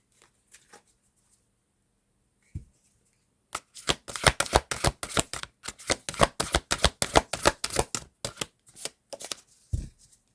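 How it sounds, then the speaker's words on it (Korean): Tarot cards being shuffled in a rapid run of crisp riffling flicks that continues for several seconds, framed by a few soft taps and handling sounds before and after, close and alone with no talk. "조언의 카드 한 장만 뽑아보고 마치도록 하겠습니다."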